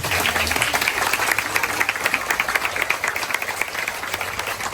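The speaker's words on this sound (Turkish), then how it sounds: "kendinizi alkışlar mısınız?" An audience in a Turkish official gathering claps for itself, a dense, fairly loud round of applause that holds steady throughout the short stretch.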